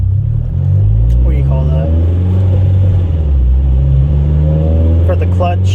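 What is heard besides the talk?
9th gen Honda Civic Si engine revving through VTEC crossover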